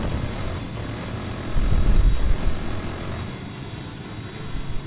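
An airplane engine drones in a video game, a loud, rough roar that swells midway and then eases off, heard alone with no talking.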